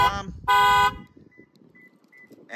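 A Toyota Camry alarm set off from the key fob blares in loud horn blasts, one short and one held, with a person talking quietly in the gap between them.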